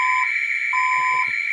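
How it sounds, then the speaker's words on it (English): Ademco VISTA alarm panel siren sounding as a steady, loud, continuous electronic tone, with short beeping tones and a few faint low knocks underneath. "There's the siren."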